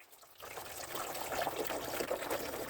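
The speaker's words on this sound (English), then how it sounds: "You fill up the jug with water and you pour the water into the filter." Water pours from a jug into the filter of a HomCom tabletop dishwasher, a steady splashing trickle that starts after a brief quiet moment and continues close and even to the end.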